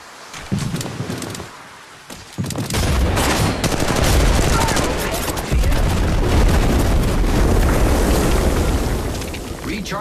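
Dense, continuous gunfire and bursts of automatic weapons roar through an Apex Legends Mobile firefight, loud and nearly unbroken after a brief quieter opening.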